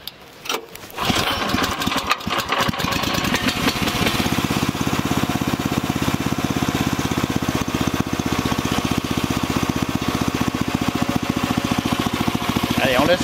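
The engine of a new machine starts and then idles steadily on its pallet while warming up, a close, loud, even mechanical chug that keeps up from start to end after a brief rough start.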